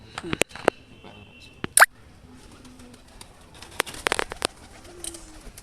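Madras pigeons in a loft coo softly now and then, with scattered wing flaps and clicks. Someone talks over them.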